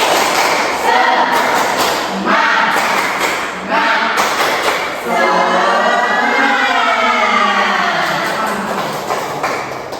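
A primary school class stands and performs a rhythmic spirit clap, with loud, patterned thumping claps mixed with children's chanting voices, close and energetic throughout.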